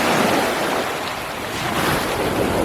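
Gulf of Mexico waves at Biloxi Beach, Mississippi, rush and wash in a loud, close, continuous surge, mixed with heavy wind buffeting the microphone, with no voices.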